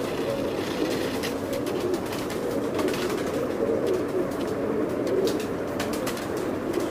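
Kasuri breed pigeons, the old netted-pattern strain, coo steadily and close at a pigeon club loft, low throaty rolling calls overlapping one another for the whole stretch, with faint bird chatter and brief clicks above.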